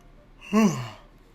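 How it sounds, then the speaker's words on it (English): One breathy human yawn, rising and falling over about half a second, close and fairly soft against a quiet background. "Sorry, yawning is inevitable for me"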